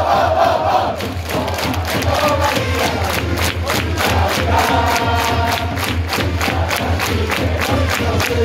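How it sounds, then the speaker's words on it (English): Baseball fans at an Orix Buffaloes game in Osaka chant and cheer together while drums and other instruments keep a steady, pounding beat. The organized support is loud and continuous. "then the team singing and cheering and the instruments come in."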